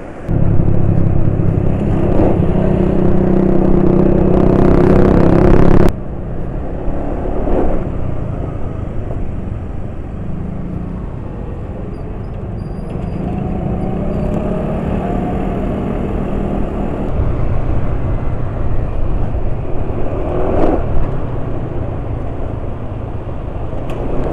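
A car drives over a speed trap at high speed, above 80 km/h, producing loud, continuous road and wind rumble with a heavier surge at first and a few faint bumps.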